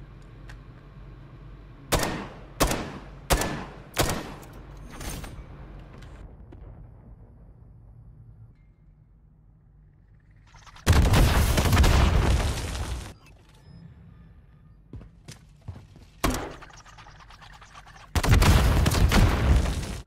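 Spawn-tube grenade launcher rounds in Modern Warfare III on the Departures map, a quick run of four or five loud thumping shots followed later by long rumbling explosions and scattered pops, with no talking.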